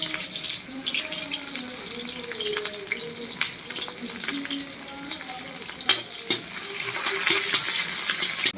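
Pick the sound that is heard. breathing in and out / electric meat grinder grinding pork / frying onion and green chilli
frying onion and green chilli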